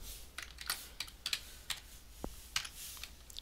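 Quiet keystrokes on a computer keyboard, a handful of separate clicks and short bursts spaced irregularly over a few seconds, close, with no talk.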